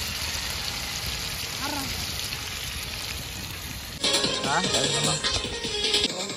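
Heavy outdoor rain falls as a steady, dense hiss that grows louder partway through, with people talking over it.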